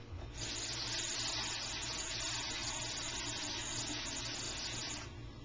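Tap water pours steadily into a bowl for cleaning leeks, a continuous, even gushing stream lasting several seconds with no voices.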